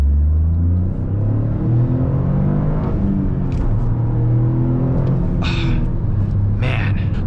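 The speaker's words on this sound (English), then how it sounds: "That rev matching is just too sweet." A Toyota Corolla GR's engine rumbles and revs from inside the car, pitch rising and falling through several rev-matched gear changes in a loud continuous drone, with a person talking over it.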